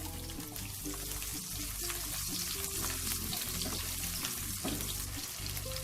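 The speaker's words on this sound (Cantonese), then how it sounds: "先爆一爆呢個紅葱頭、薑同埋蒜片，" Shallots, ginger and garlic slices stir-fry in a wok for quick-fried gizzard, producing a dense, continuous sizzle over a steady background of low tonal sound.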